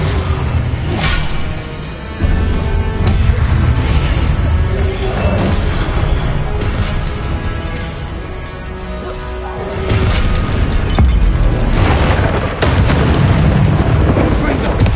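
Confringo fire spells going off during combat in Hogwarts Legacy, a dense run of booming blasts and crashes that stays loud and almost continuous, mixed with battle noise and a voice casting spells.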